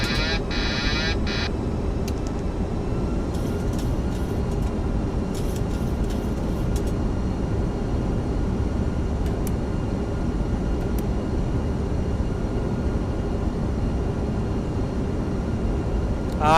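A LevelUp 737-800 airliner in X-Plane 12 on landing approach with flaps 30 and autobrakes 3, giving a steady, continuous engine and airflow drone with a few faint high clicks and tones over it. No one speaks.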